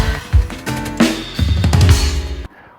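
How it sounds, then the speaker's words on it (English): Snare drum on a drum kit playing a flamenco tangos rhythm, with crisp backbeat hits over kick and cymbal wash, loud and close in a steady dance groove that stops abruptly near the end. "I'm going to put the snare drum in 2"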